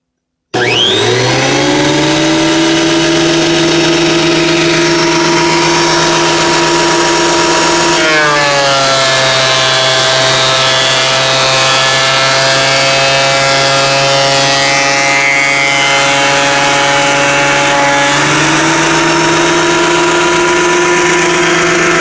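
A Craftsman wood planer feeds a board through its rollers, a loud, close whining motor with a steady pitch that dips and shifts as the cutter bites into the wood, running continuously for about twenty seconds.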